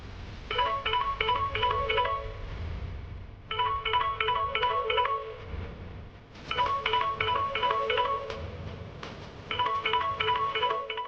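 A telephone rings in repeated electronic bursts of rapid warbling tones, four rings evenly spaced a few seconds apart, loud and near over a low hum.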